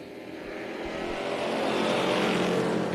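NASCAR race cars roar off at the start of a race at Tucson Speedway, a dense engine roar building steadily in loudness as the field accelerates together, with no talk.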